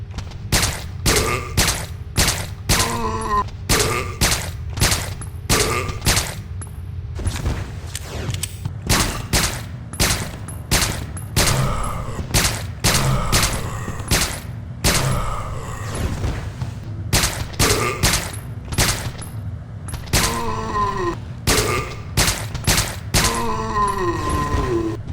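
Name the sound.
silenced handgun shooting zombies in Resident Evil: Dead Aim video game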